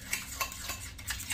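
A spoon stirs an oatmeal topping in a bowl, giving soft, fairly quiet scraping and clinking strokes in a quick irregular rhythm, close by and with no talking.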